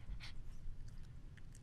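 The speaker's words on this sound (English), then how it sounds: "So this is a little dog. You hear the dog panting" A small dog panting in quick, soft breaths, close by and faint, repeated steadily with no talking.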